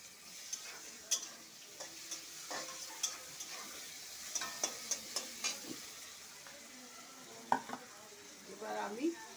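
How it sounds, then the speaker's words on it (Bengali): Onion and a few prawns frying in oil for a jackfruit-and-prawn kofta: a soft continuous sizzle with repeated light ticking taps of a spatula against the pan, close and fairly quiet. "আমি অল্প করে একটু পেঁয়াজ তেলে দিলাম"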